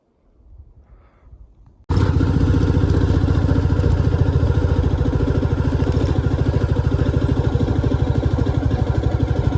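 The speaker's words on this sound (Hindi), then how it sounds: "अब आप बाइक की आवाज़ से अंदाज़ा लगा लो कि कितना ज़्यादा लोड मांग रही है।" Motorcycle engine labouring in low gear up a rough, zigzagging mountain road, a close, steady, thumping drone that starts suddenly after a quiet moment and keeps pulsing evenly without letup.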